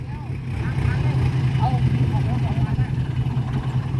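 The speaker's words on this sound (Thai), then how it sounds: "คงว่าเอารถไถดึง น่าจะขึ้น" Yanmar tractor engine running under load as it tries to pull a vehicle out, a steady mid-pitched rumble with a wavering whine above it, while people talk over it.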